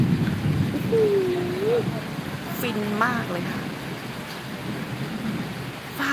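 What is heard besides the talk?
thunder and rain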